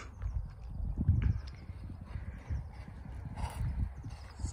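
Horse hooves in an indoor arena during free schooling, a dull irregular thudding of a fast-moving horse on soft footing, fairly close and steady throughout, with no talk over it.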